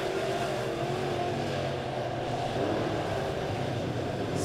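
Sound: dirt track modified race cars racing

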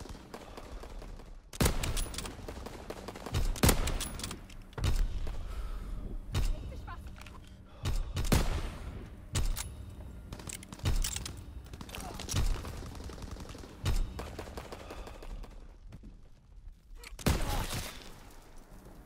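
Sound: battery gunfire in video game Call of Duty WWII

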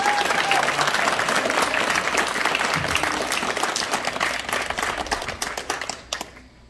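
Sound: audience applause at badminton club ceremony

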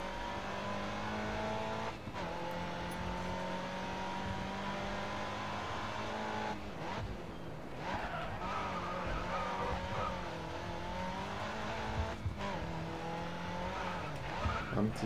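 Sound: car skidding after handbrake, Grid Autosport video game

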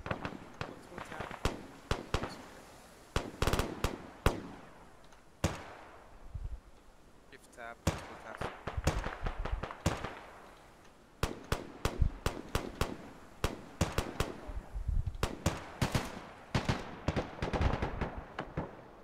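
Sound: gunfire in the video game ArmA 3

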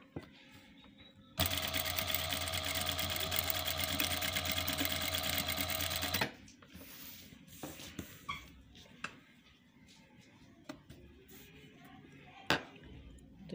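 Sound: sewing machine stitching a saree over stones

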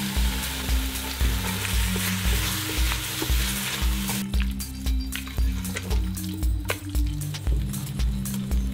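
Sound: curry with crème fraîche and cherry tomatoes sizzling, stirred

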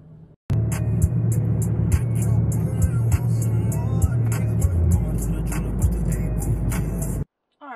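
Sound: car driving on the road

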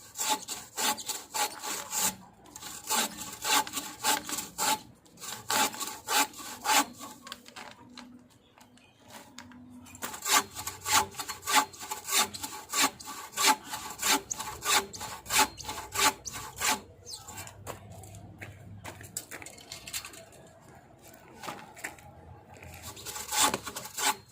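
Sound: bow saw cutting coconut wood

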